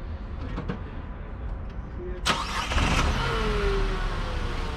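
A Dacia Logan estate car with a 0.9-litre, 90-horsepower turbo petrol engine starts with a sudden burst, then settles into a loud, continuous engine roar with rising revs close by.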